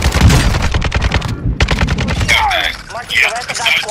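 Rapid automatic gunfire from the video game Warzone rattles loudly in dense bursts, with a brief gap, followed by clipped radio-style game voice chatter over quieter shots.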